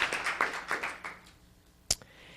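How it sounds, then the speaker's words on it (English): Applause at a Los Gatos town council meeting: a short burst of scattered hand clapping that thins out and fades within about a second, followed after a pause by a single sharp tap. "Round of applause for all those individuals and departments involved in making that happen"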